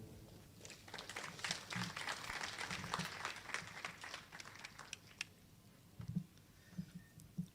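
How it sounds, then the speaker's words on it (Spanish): Audience applause at a formal lecture on judicial resolutions, a rather faint, diffuse patter of many hands that swells and then tapers, with a few low voices underneath toward the end. "Un fuerte aplauso, por favor."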